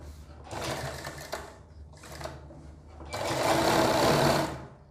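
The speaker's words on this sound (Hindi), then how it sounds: "जैसे मैं सिलाई लगा रहा हूँ।" A sewing machine stitches along the edge of a Patel collar in short close bursts, a rapid mechanical whir that stops and starts three times, with the last run the longest and loudest.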